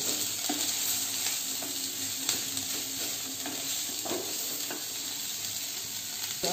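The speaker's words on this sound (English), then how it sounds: "I am going to add 1 cup of cabbage" Shredded cabbage sizzles in a hot frying pan with spring onions for spring roll filling. A spoon scrapes and stirs in scattered soft clicks over a constant frying hiss, with no talking.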